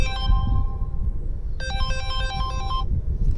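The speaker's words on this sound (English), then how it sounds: "it's trying to call us to give us notification." An electronic phone ringtone from a Starline car alarm's notification call on a VW Transporter plays in two bursts over a low background rumble, the second ring longer and brighter, with no voices.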